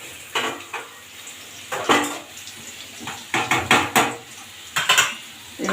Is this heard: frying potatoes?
yes